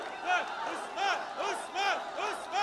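A boxing crowd at a fight between Usman Wazeer and Fikiri Salum roars and chants in rising, falling waves, loud and close, with voices swelling roughly every half second in a rhythmic surge.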